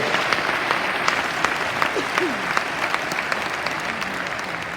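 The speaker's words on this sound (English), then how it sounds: "give yourself a round of applause" A large seminar audience in Cracow applauds steadily, a dense patter of many hands clapping at a moderate distance, with a voice briefly heard over it.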